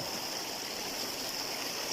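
Stream water flowing along a shortcut path, a steady close rushing wash that stays even and fairly soft throughout with no voices.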